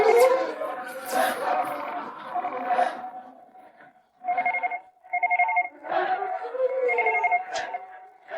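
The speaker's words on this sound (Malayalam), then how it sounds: "സാർ ഇവിടുത്തെ ഫോൺ അടിക്കുന്നു." An office telephone in a busy room rings in repeated electronic trills, mixed with overlapping voices and crowd chatter.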